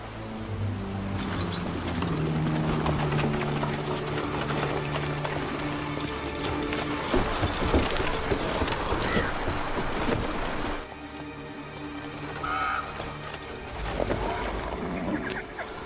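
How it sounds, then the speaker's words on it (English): Horse hooves clip-clop in The Witcher 3, a steady rhythm of hoofbeats set among dense game ambience and background sounds, moderately loud throughout with a quieter stretch late on. "Si Roach ba yung isang kabayo? Parang si Roach yung isang kabayo ah."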